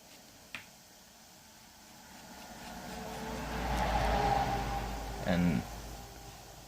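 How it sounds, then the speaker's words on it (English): A truck passes by outdoors, a low rumble building to a broad swell and fading, moderately distant, with a sharp snap near the start and a brief louder bump late on. "that's a truck."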